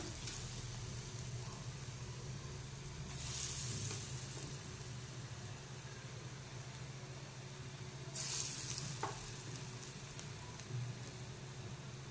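Vegetable pakoda batter with capsicum, bottle gourd and coriander frying in oil over medium heat, a steady close sizzle that swells twice as more batter drops in.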